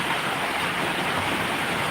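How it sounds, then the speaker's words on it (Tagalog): Heavy rain pouring down in the morning, a dense, steady broadband hiss with no breaks, moderately loud and uninterrupted throughout. "Kung kita ko yung palagi ng ulan, no? Lakas ng ulan."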